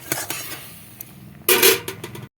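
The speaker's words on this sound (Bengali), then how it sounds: "সে তেল দিয়েছি আলুগুলো ঢেলে দেবো" Raw potatoes tipped into hot oil in a pan while cooking a Bengali-style vegetarian potol and potato curry, a loud burst of clattering and crackling sizzle near the end after quieter kitchen clinks.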